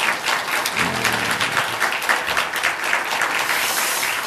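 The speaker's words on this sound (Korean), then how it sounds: "축복의 박수 한번 해주시길 바랍니다." A church congregation claps together in blessing during a Sunday afternoon service, a dense, steady round of applause filling the room for several seconds with a brief low murmur partway through.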